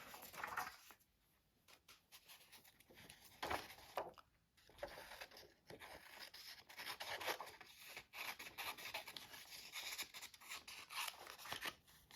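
Scissors snip through paper while making a ledger-style mixed media art journal, a close, quiet series of irregular crisp cuts and rustling slides, with no talking over it.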